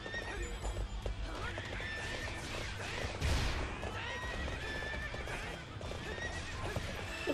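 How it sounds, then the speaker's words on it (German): A horse gallops in the video game Hyrule Warriors, with rapid, steady hoof clip-clop, a neigh partway through and game sound effects layered over it, while a person talks quietly in the background. "ich reite hier einfach auf einem Pferd"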